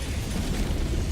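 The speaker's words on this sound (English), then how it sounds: "Is there a fucking hell bomb going off right over there?" A Hellbomb detonates in the video game Helldivers II, a loud, deep, rumbling explosion that fills the short moment with heavy low-end roar.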